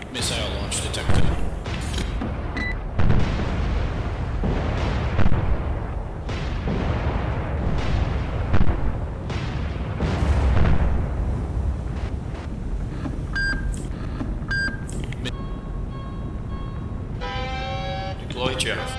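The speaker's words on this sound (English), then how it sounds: "Missile launch detected." Missile launches and explosions in a naval warfare game, heavy booms and rushing blasts rolling over a constant windy, sea-like roar, with a spoken voice and electronic alert tones near the end.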